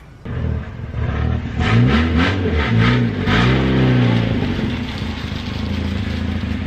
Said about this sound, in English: Hey, I heard your car like a mile away.